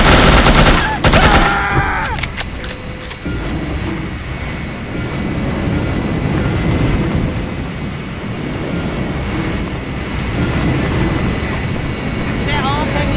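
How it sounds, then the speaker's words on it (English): Gunfire in the shooter video game No One Lives Forever, a burst of sharp loud shots near the start, then a sustained rumbling wash of ambient game noise. "I hate it when they shoot!"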